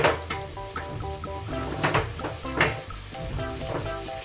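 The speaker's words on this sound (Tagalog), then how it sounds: "Wato na to siya mo caramelize na ang iyang onion" Onions caramelize in a frying pan for pasta, giving a soft, steady sizzle beneath tonal music with a repeating rhythm and occasional light clinks.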